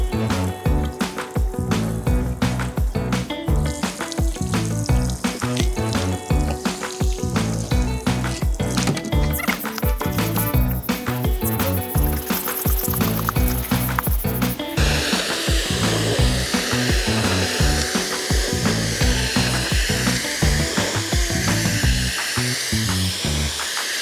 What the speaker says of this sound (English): then we're going to come through and do a moderate pressure wash